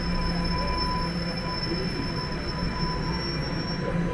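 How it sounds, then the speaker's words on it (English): A Toronto subway train's wheels squeal steadily at a station, a high metallic whine held for the whole stretch over a loud rumbling roar of the cars rolling in. "another southbound train has rolled in."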